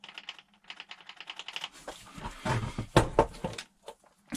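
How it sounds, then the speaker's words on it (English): A HOBAO Hyper VS2 nitro RC car's spur gear is rocked against its pinion, making a string of small, close, rapid clicks with a few heavier knocks toward the end and no talk. "You should hear a little clicking sound when you do this."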